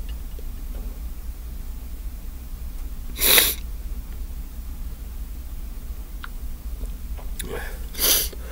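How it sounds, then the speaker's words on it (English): A person sneezes in a short fit, with two sharp bursts several seconds apart over steady background hiss, no talking between them. "If I had a sneezing fit like this"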